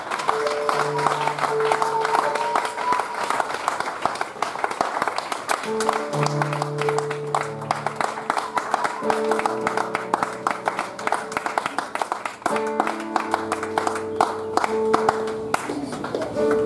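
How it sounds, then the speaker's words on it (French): Church congregation applauding: dense, continuous clapping from many hands, steady and fairly loud, mixed with sustained musical tones. "On acclame le Seigneur Jésus-Christ"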